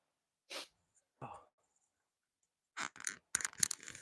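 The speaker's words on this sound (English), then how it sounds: "Sorry, I gotta sneeze." A person sneezes several times indoors, sharp isolated bursts spaced apart with silence between, then a closer cluster of sneezes and sniffs near a microphone.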